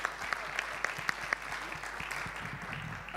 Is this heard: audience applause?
yes